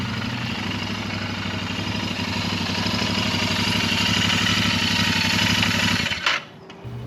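Royal Enfield motorcycle idling through a $90 aftermarket muffler, a close, steady low thumping exhaust pulse that holds for about six seconds before cutting off abruptly.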